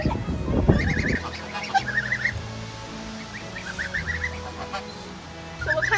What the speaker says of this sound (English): that one's a Roman tufted.